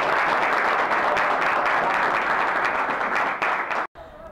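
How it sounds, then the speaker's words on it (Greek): Applause from a crowd gathered for the Achaiki team's 2022 New Year pie-cutting celebration, dense, loud clapping that holds steady and then stops abruptly near the end. "ένα μεγάλο χειροκρότημα και σε αυτούς και σε εσάς"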